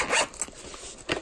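A zipper on a small gel pen travel case, pulled in a few short, close rasps over about a second.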